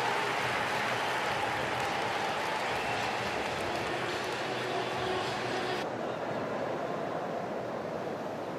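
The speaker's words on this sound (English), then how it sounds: "Arthur Ashe Stadium, cheering on both guys. You hear chants in Italian and Spanish." A large tennis crowd at Arthur Ashe Stadium during a US Open fourth-round match cheers and chants steadily, a dense, continuous roar of many voices with no breaks, heard from within the stands.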